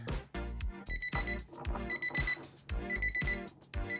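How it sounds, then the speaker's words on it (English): An IKEA kitchen timer rings with a bright electronic alarm in repeated bursts of rapid beeping, separated by short pauses. It sounds close and moderately quiet, with no voices. "The alarm sound is like this."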